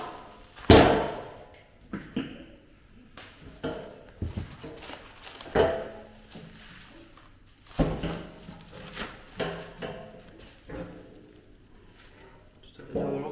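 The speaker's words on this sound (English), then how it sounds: "Just take the door off and put that out of the way." Metal calf pram frame door being lifted off, with a sharp clattering bang near the start followed by scattered clanks, knocks and handling noises.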